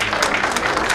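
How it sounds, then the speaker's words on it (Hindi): A crowd claps at an education conclave and award ceremony, a short burst of dense, steady applause filling the hall. "जोरदार तालियां इसके लिए।"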